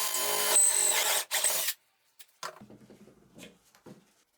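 A drill boring dowel holes through a doweling jig into wood, a loud continuous whine of about 1.7 seconds with a brief dip, then faint scattered knocks and handling sounds.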